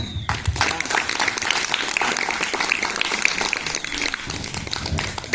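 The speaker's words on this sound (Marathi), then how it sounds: "परीसाठी जोरात टाळ्या वाजवा अजून जोरात टाळ्या अजून जोरात" Audience applauding a young child performer at a patriotic recital about a soldier, sustained dense clapping from a crowd throughout, steady and fairly loud.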